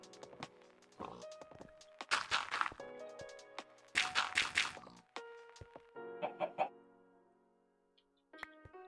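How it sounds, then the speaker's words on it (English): Chickens cluck in a modded Minecraft world, several short bursts of clucking arriving in clusters with brief gaps, moderately loud and close, with faint tonal game sounds in between. "Chicken, you're gonna have to move"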